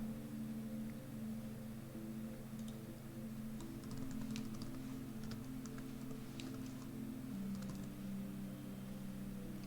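Quiet clicking on a computer keyboard comes in short, uneven bursts of soft taps over a steady low electronic hum, with no one speaking.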